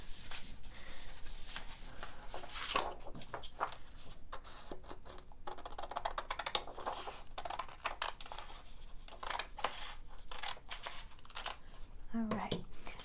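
Folded paper card edges being burnished on a handmade snowflake pocket card, a steady soft rubbing and scraping with repeated short strokes, close and quiet, continuing without any talk.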